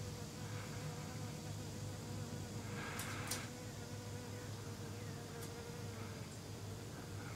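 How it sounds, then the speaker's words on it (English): A bee buzzes steadily near the camera outdoors beside a web-building spider, a faint continuous drone that holds throughout, with no talk. "There's that darn bee again."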